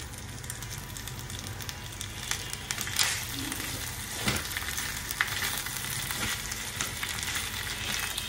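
Handi kebab sizzles in an iron wok after ghee is added, giving a continuous crackling fry with a few scraping knocks from stirring, moderately close and fairly quiet.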